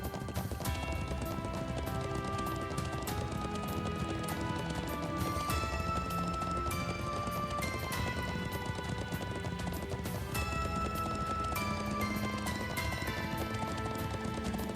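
Horse hooves clop steadily through the video game Trails into Reverie, the rhythmic galloping beat running continuously over a full game soundtrack for the whole stretch.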